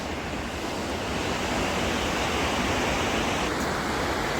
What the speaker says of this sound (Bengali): জলগুলো কী থই থই করে উপর থেকে উঠছে